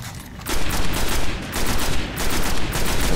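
Rapid automatic gunfire in the shooter game Destiny, dense continuous bursts with brief pauses, loud and close, no talking over it.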